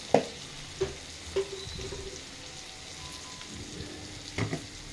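Ginger garlic paste fries in a pan with a soft continuous sizzle, broken by a few louder spoon clinks and stirring scrapes near the start and end.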